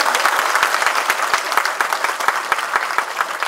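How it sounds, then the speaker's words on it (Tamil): Dense, loud applause fills a press meet for the Tamil film Kaaduvetti, with many hands clapping steadily and close by throughout. "நல்ல கைத்தட்டு கொடுங்க அவருக்கு"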